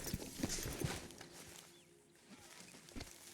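A horse's hooves clip-clop at a walk in Red Dead Redemption 2, a few faint, uneven thuds with quiet background ambience.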